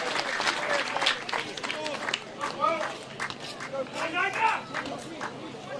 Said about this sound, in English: crowd really getting in behind the boys